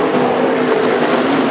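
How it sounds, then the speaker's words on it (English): Sprint cars racing at Willamette Speedway give off a continuous, loud engine roar with a steady drone and no break, heard without any talk. "Fastest car on the racetrack is Tyler Thompson"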